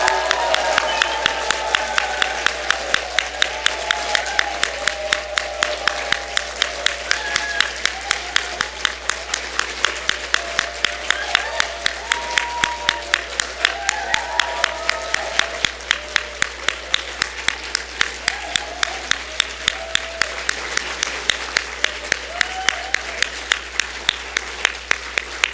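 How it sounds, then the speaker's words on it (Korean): A church congregation on its feet giving a sustained standing ovation, dense steady clapping from a large crowd with scattered shouts and cheers, continuing loudly for about twenty-five seconds. "20초 동안 힘차게 한번 축복과 환영과 감사의 마음을 담아서 다 기립박수 한번 하겠습니다."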